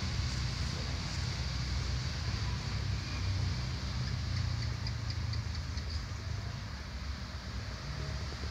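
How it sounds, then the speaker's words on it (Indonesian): Motorcycle engines drone steadily from a roadside, a continuous low rumble with faint ticking, moderately loud and unbroken, with no talking over it. "Ini agak berisik, guys, karena ini di pinggir jalan. Ada apa? Suara motor."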